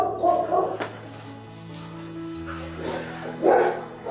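A white Bac Ha puppy gives a few short, high yips and barks close by over a low steady hum, with a louder burst near the end.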